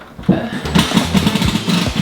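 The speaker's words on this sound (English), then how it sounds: "where Andrea uses the loud impact drill right by my head." A loud impact drill runs during an emergency home renovation, close to the listener, firing in short, stuttering mechanical bursts over about two seconds.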